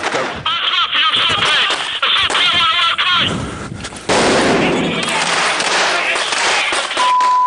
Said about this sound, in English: The stun grenades and the gunfire are supposed to disorientate the enemy